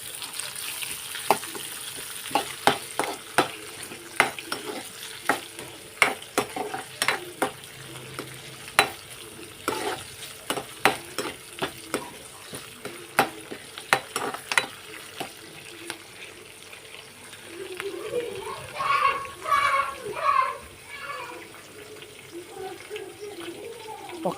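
Curry leaves crackle and fry in hot oil while a spoon stirs the pan in a steady run of sharp clicks and scrapes, close and fairly loud, with a louder sputtering burst near the end as the leaves hiss.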